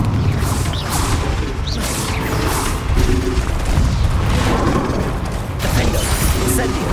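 Bombarda and Confringo spells exploding in Hogwarts Legacy during San Bakar's Trial, a dense run of booms and crashes layered under continuous game noise, with a few sharper hits standing out.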